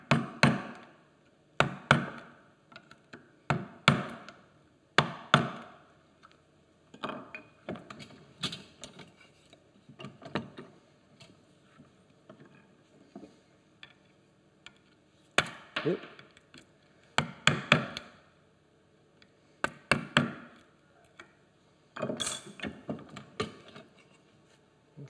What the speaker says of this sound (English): Might turn your chisel over if you want to get deep into that inside corner.